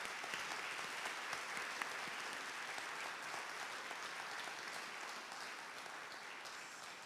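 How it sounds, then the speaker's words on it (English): A lecture audience applauds steadily for a speaker at a ministry week lecture, broadband clapping sustained evenly for about seven seconds with no voices over it. "Hong one more round of applause, please"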